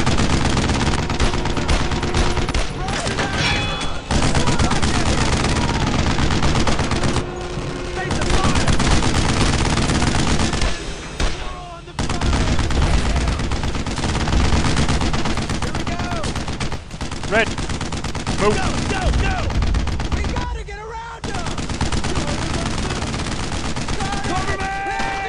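Battlefield gunfire from a World War II squad shooter, with rapid machine-gun bursts and repeated rifle shots crackling continuously throughout, loud and close, with shouted voices in between.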